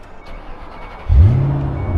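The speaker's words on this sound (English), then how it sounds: "Why don't you go ahead and hop in there and give us some startup, couple revs." A 2007 Ford Mustang Shelby GT500, warm, cranks and fires up after a quiet moment, settling into a deep, loud rumbling idle close by.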